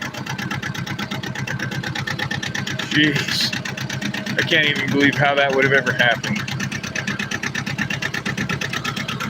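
A tractor engine chugs steadily with a fast, regular mechanical beat close by, running throughout while someone talks over it.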